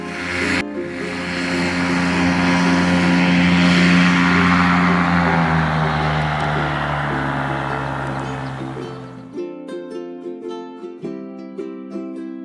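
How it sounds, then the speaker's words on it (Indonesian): A droning ultralight aircraft engine rises and holds loud for several seconds, then fades out as bright music with a steady beat takes over. "U is for ultralight, pesawat terbang bobot ringan."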